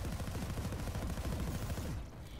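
Sustained full-auto burst from the H-V45 VANU assault rifle in a video game, a fast even stream of close, loud shots that cuts off near the end.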